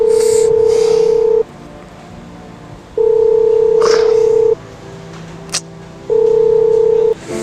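Telephone keypad dialing tones for a call to a company's finance department: three long steady beeps separated by quiet gaps, loud and close, with faint background noise.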